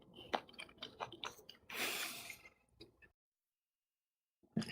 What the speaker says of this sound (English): You're literally chewing